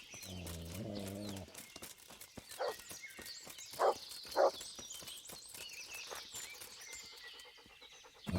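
A dog in the video game Kingdom Come Deliverance gives a few short, sharp barks spread apart, heard among soft footsteps and background ambience, with a low drawn-out voice at the start.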